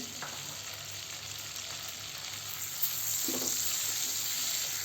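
Curry leaves crackle and sizzle in hot butter and oil in a kadai over a full flame, a steady frying hiss that swells louder partway through with no talking.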